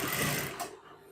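A sewing machine stitches a kanchali blouse in a short, close burst of rapid mechanical whirring that slows and fades within about a second.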